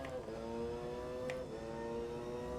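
Car engine in Gran Turismo 4 racing game held at high revs in top gear, a steady whining drone with stable tonal harmonics and faint shifts, moderately quiet with no talk.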